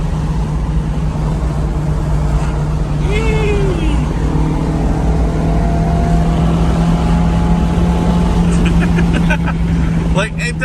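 A 1990 Honda CRX Si with a clogged catalytic converter drives steadily in third gear, its engine a loud continuous drone with a constant hum throughout and brief rattles near the end.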